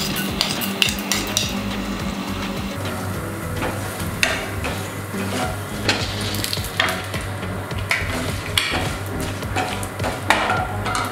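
Steady sizzling of dal frying in a pan for Karnataka-style puliyogare, with a spoon repeatedly scraping and clinking against the pan, close and continuous, with no voices.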